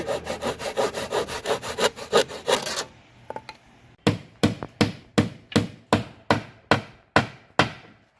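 Rapid back-and-forth strokes of a hand saw cut through wood for repairing a pigeon coop, a brief pause, then slower, evenly spaced loud strokes, close by with no talk.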